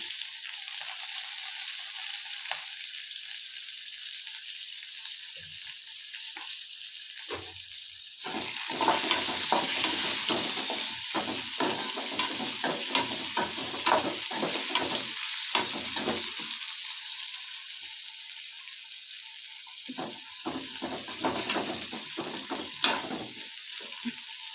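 Chopped tomato dropped into hot oil in a pan for a village-style honagone greens sambar, a steady close sizzle that jumps louder midway, with scattered clicks of stirring and no talk.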